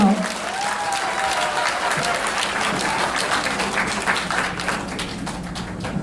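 A crowd at a book-launch event for a National Assembly member in Asan applauds the arriving Asan mayor, dense and loud clapping sustained throughout, with voices faintly mixed in.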